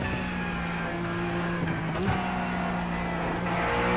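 Porsche Cup race car at Virginia International Raceway, engine droning steadily at high revs from inside the car, with a quick upshift dip in pitch around the middle before the steady drone resumes.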